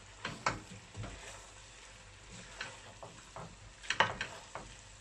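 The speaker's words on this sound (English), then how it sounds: "we're simply going to stir the salmon into the pasta very gently" Flaked salmon being gently stirred into fileja pasta with spinach and squid ink, giving soft wet scrapes and light clicks of a utensil against the pan, with a few sharper knocks partway through and no talk.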